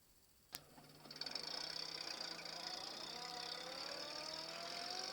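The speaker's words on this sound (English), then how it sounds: "A car engine." A car engine starts with a sharp click and then runs steadily, a faint, even hum that holds without change, with no talking.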